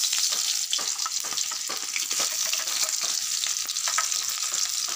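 Bitter gourd and potato frying in hot mustard oil, a steady close-up sizzle with scattered crackles and occasional stirring scrapes running continuously without any talk.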